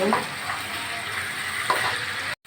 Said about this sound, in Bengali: আমি ঢাকা দিয়ে দিয়ে মাংসটাকে ভালো করে কষিয়ে নেব